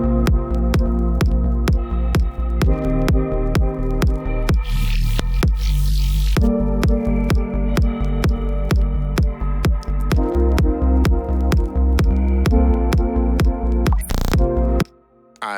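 Glitchy electronic ambience of rapid rhythmic stutters over deep sub bass and a hiss of white noise, with a brief noise burst midway and a sudden cut near the end, loud and continuous.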